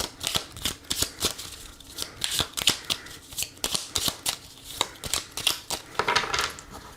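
Tarot cards are shuffled and cut by hand at close range, a rapid series of crisp riffling flicks and soft slaps in irregular bursts, with no talk over them.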